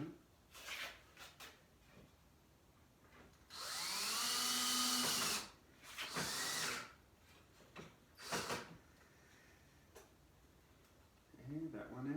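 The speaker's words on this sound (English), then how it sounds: "Now I'm going to screw these in." Power drill driving screws into a wooden hutch add-on, with one sustained whirring run of a few seconds followed by a shorter burst, close by, between quieter handling noises and brief talk.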